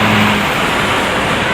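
A TransJakarta Corridor 2 bus at the Pulo Mas stop in Jakarta, its engine rumbling close by with a low steady hum over busy road noise, starting louder and then settling for a moment.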